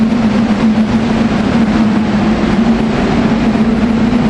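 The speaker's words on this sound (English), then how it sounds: "Railcars 111 and 112, train 450 is leaving." A SEPTA train, number 450 with railcars 111 and 112, departs in a loud, steady low drone with a sustained motor hum and rolling wheel noise close by, no voices heard.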